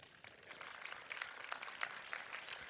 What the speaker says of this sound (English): Maybe give him a round of applause.